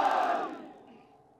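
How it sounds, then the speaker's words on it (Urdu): Crowd at a Pakistan Muslim League (N) rally in Gilgit-Baltistan roars a chanted slogan together, a loud massed shout that swells at once and then fades away over about a second and a half. "آخر میں میرے ساتھ مل کے 3-4 نعرے لگا دو۔"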